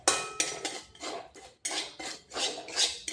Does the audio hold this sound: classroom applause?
no